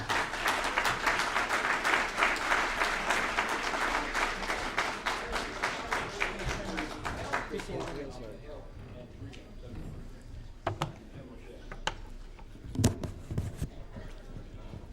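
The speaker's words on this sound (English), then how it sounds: "Please help me give a warm hand of welcome to Dr." Audience applause welcoming Dr. Tim O'Shea to a 2006 talk on vaccines: heavy, dense clapping for about eight seconds that thins into scattered single claps and fades out.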